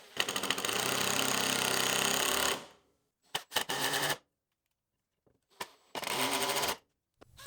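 A power driver screws a piece of wood into place as a temporary fence while building a pair of bar stools, with a long buzzing run and then several short bursts, close and loud with silence between.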